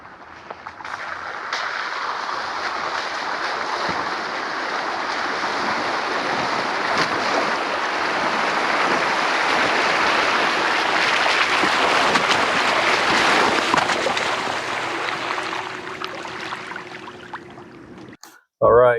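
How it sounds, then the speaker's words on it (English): A Jeep Wrangler 4xe pushes through a water crossing, with a steady rushing, splashing wash of water and engine noise building and holding for most of the stretch, then breaking off sharply near the end. "Went up on this little nice water crossing up here. See how that treats us. Hopefully it's not too deep."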